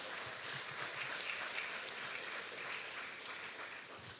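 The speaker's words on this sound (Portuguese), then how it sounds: "Você pode aplaudir o Senhor?" A church congregation claps together in sustained, dense applause that stays fairly even for several seconds and tapers slightly at the end, with no clear talk over it.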